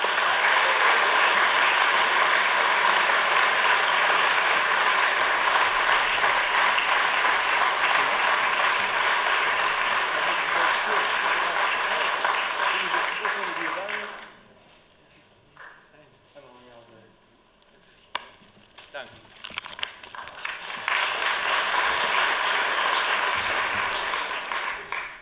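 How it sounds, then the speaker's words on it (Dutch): Warm applause fills a hall at a literary festival for a book prize winner, dense and sustained for about fourteen seconds. It drops to quiet shuffling and a few sounds, then swells again briefly. "Ik zou graag u hartelijk applaus willen hebben voor de winnaar van de Nienke van Hichtumprijs 2019, Gideon Samson."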